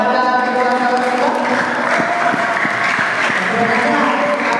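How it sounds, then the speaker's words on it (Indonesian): A crowd applauds two candidates at a student organization election debate in a Quran memorization boarding school. The clapping is dense and steady, with a voice talking over it throughout. "terima kasih tepuk tangan kepada kedua calon kita"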